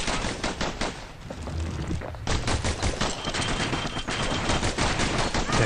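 Sustained automatic gunfire from enemies in the video game Bastion, rapid repeated shots in a dense, loud stream that thins briefly and then resumes at full intensity.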